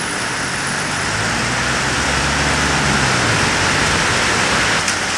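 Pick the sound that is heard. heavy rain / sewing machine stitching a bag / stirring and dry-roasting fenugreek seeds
heavy rain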